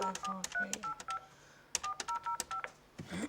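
A telephone keypad is dialed, a quick series of distinct touch-tone beeps in two bursts separated by a short pause, fairly quiet and close.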